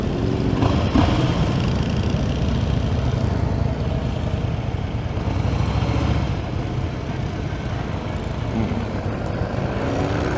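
A 2016 Harley-Davidson Slim S motorcycle on a test ride, a continuous loud engine drone mixed with rushing wind noise from start to end, no speech.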